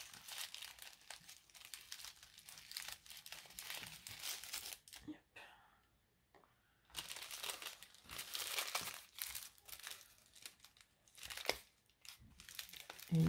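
Crinkly rustling of candy-style gift wrapping as a pink ribbon is pulled off, bursts of crackling paper with a quiet pause in the middle, close and soft.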